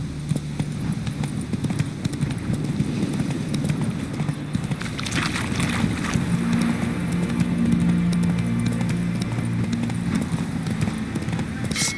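Roach, a horse in The Witcher 3 video game, gallops with a steady, loud clip-clop of hooves set against low rumbling game ambience, while a voice talks over it.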